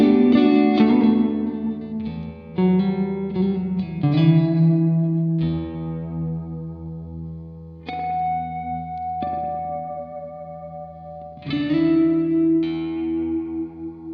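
Chords on an electric guitar run through a Fender '65 reverb pedal ring out one after another, some left to decay into long washy tails before the next strum, loud and up close with no talking.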